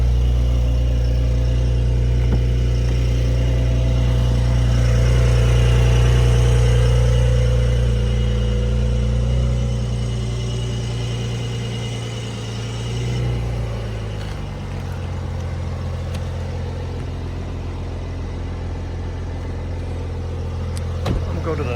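A Porsche 992 engine idles as a steady, close low rumble, with a slight swell in level early on before it settles into a quieter even idle.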